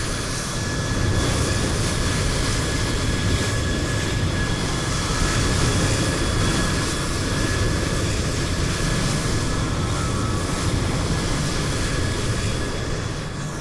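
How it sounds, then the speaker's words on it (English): Simulated EasyJet airliner departing in a flight simulator game, a continuous broad jet engine roar holding steady throughout, with no voices. "Looks like an EasyJet going out."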